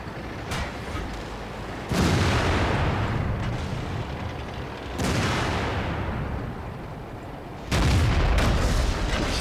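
Heavy tank cannon blasts in World of Tanks, three loud booming shots spaced a few seconds apart, each with a long rumbling decay, with no talk over them.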